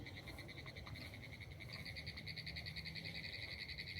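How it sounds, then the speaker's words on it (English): A croaking animal, likely a frog, calls from beside a nature trail in a Florida preserve: rapid, pulsing trills repeat steadily and fairly loud over a low outdoor hum, with no talking. "There's some kind of animal or insect or something carrying on over here, making a croaking noise."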